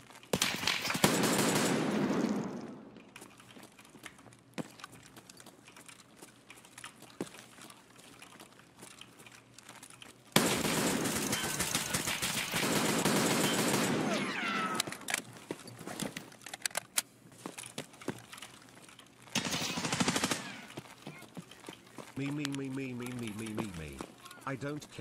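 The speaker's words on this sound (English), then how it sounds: "someone's shooting at me" Sustained bursts of video game gunfire fired at the player, loud and dense in several stretches, with talk running through most of the clip.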